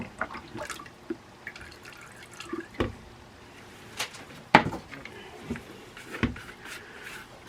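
Lye solution poured into a soap pot while making vanilla bean cold process soap, heard as faint, close, scattered splashes and drips over a quiet room background.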